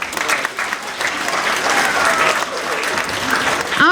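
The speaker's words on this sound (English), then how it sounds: "Let's give one more round of applause." A school Move Up Day ceremony audience applauds, a dense, steady wash of clapping from a crowd that holds strong for several seconds before cutting off, with a few voices mixed in.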